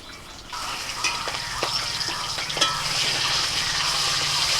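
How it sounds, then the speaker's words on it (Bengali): Hilsa fish oil fries in a pan with a steady, close sizzle that grows louder and denser over a few seconds. A few sharper crackles and stirring clicks come through near the start. "মাছের তেলটা ভাজছি"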